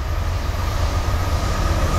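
A Norfolk Southern freight train rolls past close by in New Jersey, a loud, steady low rumble of wheels and cars with continuous grinding noise and no talking.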